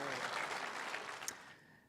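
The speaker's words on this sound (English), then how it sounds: "Let's give him a round of applause for a heck of a buck." Brief applause from an audience at a big buck night event, a burst of clapping that fades out over about two seconds.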